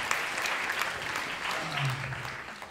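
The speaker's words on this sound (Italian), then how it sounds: "Un applauso a Simone che ha giocato con me." Audience applause at an Italian stand-up comedy show fills the room as a steady, moderately loud wash of clapping, with a brief murmur of voices in the crowd near the end.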